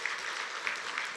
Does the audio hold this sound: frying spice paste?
no